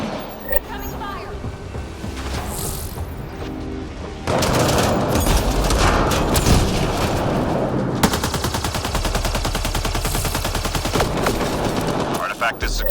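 Dense, sustained video-game gunfire during a mission: a steady wash of automatic weapon bursts runs throughout, getting louder and busier about a third of the way in, with rapid rhythmic rattling and occasional heavier shots under speech.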